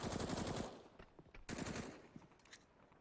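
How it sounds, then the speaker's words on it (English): Scout sniper rifle fire in a Counter-Strike match on the Train map: a quick burst of sharp, rapid shots in the first half-second, then a few more scattered cracks, fairly faint overall. "Good shots so far from the scout, just whittling them down so Electronic can finish them off."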